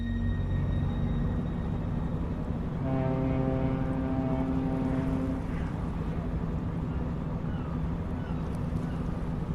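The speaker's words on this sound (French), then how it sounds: "Les moteurs grondent, le paquebot s'éloigne lentement." A departing ocean liner's engines produce a continuous low rumble with steady droning tones, and a brighter harmonic hum swells in partway through before fading back into the even background roar.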